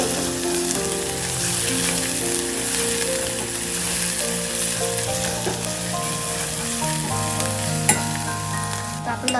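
Garlic and chili paste sizzle steadily with softened onions in a hot pan for paneer bhurji, a dense, continuous frying hiss close by with occasional stirring scrapes and no voices.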